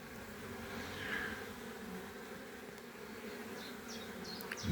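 Bees drone steadily around a small nucleus hive, a continuous close buzzing that holds level throughout, with a few faint clicks near the end and no voices.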